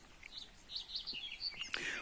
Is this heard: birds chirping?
yes